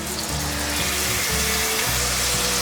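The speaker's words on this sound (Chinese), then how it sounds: "锅内放入少许橄榄油，放入苏威平生的舒服汉堡排" A vegan burger patty fries in a little olive oil in a pan, giving a continuous close sizzle and crackle, with low tonal hums from the kitchen beneath.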